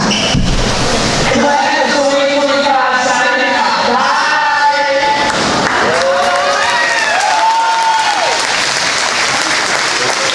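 A crowd at a women's college basketball game applauds steadily with scattered cheers and whoops rising above the clapping, loud and sustained throughout, honoring the seniors.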